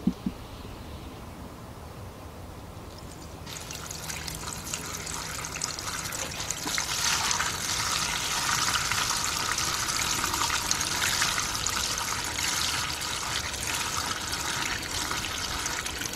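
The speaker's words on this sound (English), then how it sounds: "We're gonna pour this right into the engine." About a gallon of gasoline poured through a funnel into the engine of a 2012 Ford F-150 with a 3.5-litre engine, a steady close trickle that swells into a fuller gushing pour partway through and keeps going.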